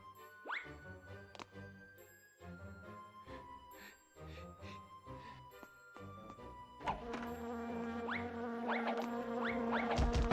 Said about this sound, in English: This place is just filled with bees.